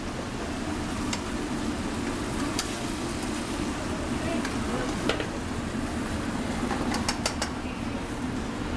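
A pan flamed with cooking wine in a restaurant kitchen gives a steady, dense sizzling roar, with scattered sharp crackles and pops throughout.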